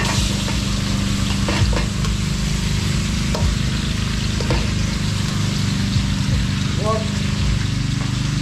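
Food is sautéed in a restaurant kitchen, a loud, continuous sizzle with scattered stirring clatter, under a low hum and with people talking nearby.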